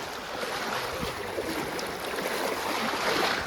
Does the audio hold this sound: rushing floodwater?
yes